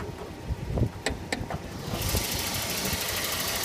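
Engine of a 1993 Volvo 240 running steadily with the hood up, a continuous mid-pitched hum and light rattle heard close, with a few sharp clicks early on before a steadier, broader roar settles in.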